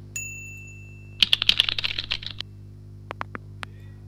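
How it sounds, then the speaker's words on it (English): Quick bursts of keystrokes on a computer keyboard while writing Python code, a dense flurry of clicks followed by a few spaced single taps, close and clear over a faint steady hum. "here I'll start typing my code"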